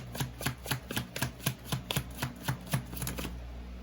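Tarot cards being shuffled and drawn, a steady run of about fourteen quick, crisp slaps and riffles at an even rhythm, close up and alone.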